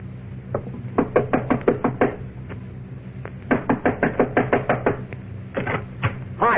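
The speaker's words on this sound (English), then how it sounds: "Knock on the door, Shannon." Knuckles rap on a door in an old-time radio drama, several rapid series of sharp, close knocks in bursts of five to eight, separated by brief pauses.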